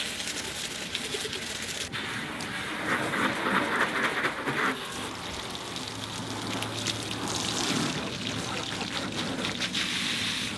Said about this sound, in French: au bout de 5 minutes, on rince les jantes